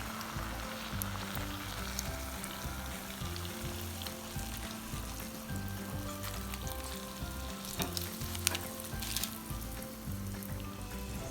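Zeppole pastry dough fries in hot oil, a steady close sizzle and crackle running throughout with no pauses.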